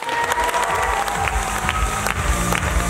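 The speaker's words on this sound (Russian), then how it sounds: "отдельные самые громкие аплодисменты тем людям, которые сделали студенческую весну в этом году" A student spring festival crowd gives loud, dense applause with some cheering at an awards ceremony, continuous and close for the whole stretch.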